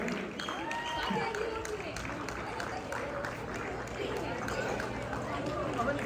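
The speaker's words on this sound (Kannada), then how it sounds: "ಒಂದು ಜೋರಾದ ಚಪ್ಪಾಳೆ ಬರಲಿ ಎಲ್ಲ ಮಕ್ಕಳಿಗೆ" An audience claps for children after a Kannada Tenali Rama skit on stage, a sustained wash of applause mixed with crowd chatter and voices throughout.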